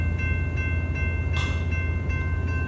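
Close, loud rumble of a train passing an active railroad crossing, steady wheel noise with regular clacks over rail joints and a constant high ringing tone from the signals, with no voices.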